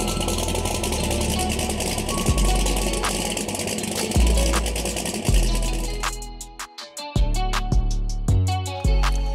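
A 1,200 hp turbocharged 388 cubic inch LS on Holley EFI idling loudly in a Trans Am with a 91 mm turbo, lumpy and close, ending in sharp, choppy revs.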